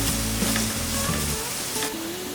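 Carrots frying in a pan, a loud continuous sizzle heard up close, with faint stirring scrapes and no talking.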